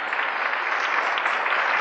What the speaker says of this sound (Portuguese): tem até a salva de palmas ali